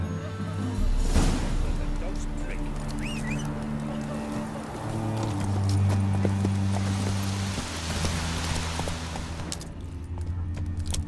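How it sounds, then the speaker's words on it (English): In The Witcher 3, a horse's hooves clip-clop at a steady galloping rhythm, close and continuous, beneath game music and a spoken line. "Run, Roach."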